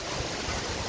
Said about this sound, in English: We're getting like some 60 mile an hour gusts.